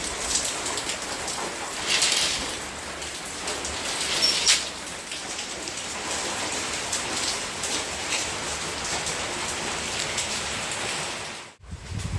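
Steady heavy rain falling on surfaces outdoors during a downpour, a continuous close hiss with a few brief louder bursts and a short dropout near the end, no voices.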